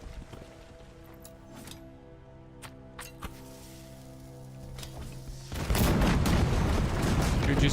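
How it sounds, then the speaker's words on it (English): A barrel bomb goes off in Berserk Khazan inside a spider cave, a sudden loud burst of crackling, rumbling debris that swells out of quieter sustained game tones and keeps roaring for a couple of seconds. "Barrel bomb set. We'll take care of the spiders. Let's explode this."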